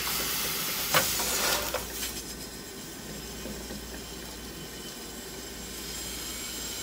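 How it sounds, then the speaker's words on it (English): Olive oil in a skillet gives a steady, faint hiss and sizzle with a short clatter near the start, as onions go into the pan and are stirred, heard alone without talk. "I'm gonna put some of this olive oil right here in my skillet."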